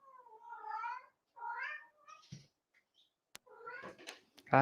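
Several cats meow in drawn-out, wavering calls, a few separate yowls with pauses between them, fairly close, followed by a couple of sharp clicks and thumps near the end.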